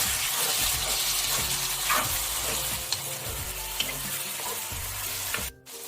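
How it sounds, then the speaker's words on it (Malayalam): Lemon pieces being stirred into sizzling spices in a pan for homemade lemon pickle, a steady close frying hiss with soft scraping strokes of the spoon, no voices. "നമുക്കിനി ഇതിലേക്ക് നാരങ്ങ ചേർത്ത് കൊടുക്കാം. നന്നായി ഇളക്കി യോജിപ്പിക്കാം."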